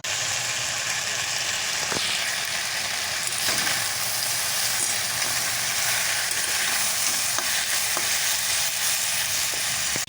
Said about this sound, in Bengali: এবার খালি আলুটা ভাজবো